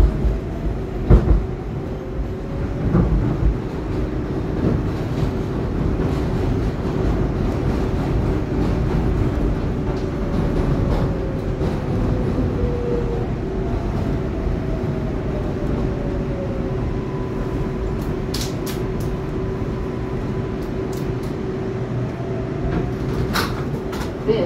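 A Manhattan-bound 4 subway train, an R142A on the IRT Lexington Avenue Line, rumbles steadily along the rails, with a constant low roar, occasional squeals and clicks, close and loud, no talking.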